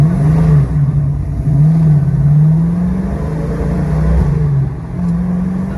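A 1970 Chevrolet Chevelle SS drives on a road test, its engine loud and close, droning and rising and falling in pitch as it accelerates and eases off through gear changes.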